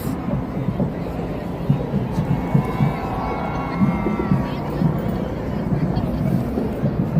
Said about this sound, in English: We can hear the cheering, the anticipation for Santa Claus.